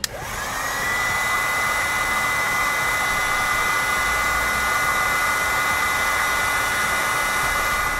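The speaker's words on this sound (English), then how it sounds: "I use a heat gun to shrink down my butt connectors" A heat gun shrinks butt connectors on trailer electric brake wiring, starting up abruptly and then giving a loud, steady blowing whir that holds unchanged throughout.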